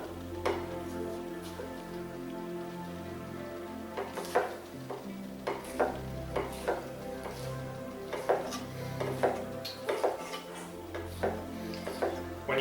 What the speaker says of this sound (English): I'm going to give these a good little chop